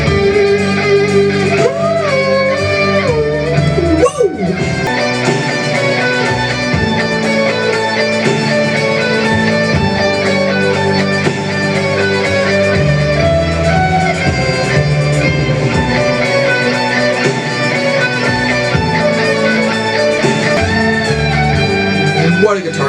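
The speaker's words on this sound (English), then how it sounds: "What a guitar solo for the ages" A soaring electric guitar solo from a song rings out loud and sustained over a full band, bending notes held throughout without pause.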